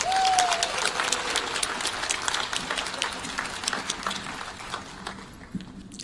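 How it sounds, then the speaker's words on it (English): A room of listeners at a candidates forum claps for the forum moderators. The dense applause is loud at first, then thins gradually into scattered claps with a brief voice-like tone at the start. "let's just give another round of applause to our two moderators for this afternoon"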